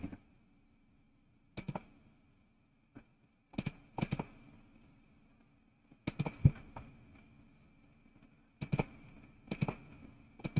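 Keys clatter on a computer keyboard in short bursts of quick clicks, separated by quiet pauses, fairly close and soft against a silent background.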